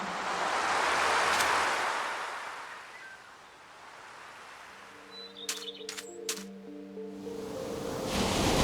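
Ocean waves wash onto the shore in the game Minecraft, a broad surf swell that rises, fades into a lull and builds again, with a few brief bird chirps and a soft tonal phrase in the quiet middle.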